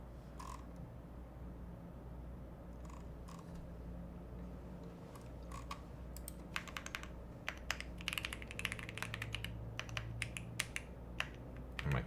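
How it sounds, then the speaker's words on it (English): Rapid, uneven clicking of a computer keyboard during a coding session for a programming contest, the keys sounding near and fairly quiet over a steady low hum, with bursts of denser keystrokes. "My keyboard ain't working right."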